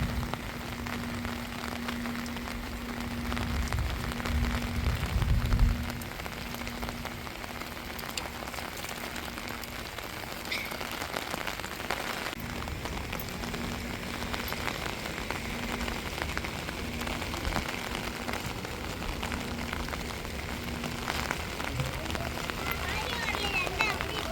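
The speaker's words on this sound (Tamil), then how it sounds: "மழையே வெறிக்காது போல் அடமலை மாதிரி பேஞ்சுக்கிட்டு இருக்குதுங்க" Steady heavy rain from Cyclone Ditwah pours down, a constant hiss of drops on surfaces throughout, with a low rumble early on and a faint tonal hum in the background.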